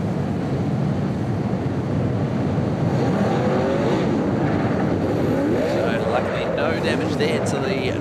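Sprint cars roaring around the track during a feature race, a dense continuous engine drone with rising and falling pitch as cars pass, loud throughout, while faint voices sit beneath the noise.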